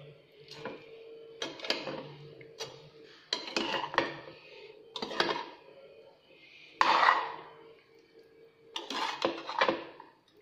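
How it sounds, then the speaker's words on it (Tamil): Chickpea biryani rice and masala being stirred in a pot, a spoon scraping and clanking against the metal in irregular bursts, fairly close. "இப்போ அரிசியோடு சேர்த்து எல்லாம் அப்படி கிளறி விட்டுருங்க"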